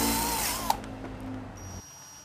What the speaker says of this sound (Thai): ตัวนี้เดี๋ยวผมก็จะเจาะเพื่อที่จะไปยึดสัก